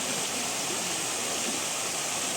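Continuous splashing, rushing water from a fountain, steady and fairly loud throughout with no pauses.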